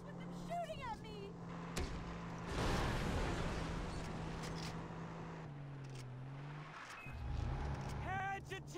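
Car engine droning and revving steadily in the Far Cry 3 game while being driven, with shots and impacts breaking in and voices talking over the motor.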